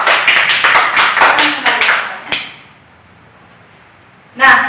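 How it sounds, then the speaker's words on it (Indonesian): Students in an Indonesian classroom clap for a presenting group, a brief burst of several close, sharp hand claps that stops abruptly, followed by near silence and one more isolated clap. "Coba beri tepuk tangan untuk kelompok 2"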